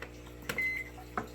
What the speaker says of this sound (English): popping that baby in the microwave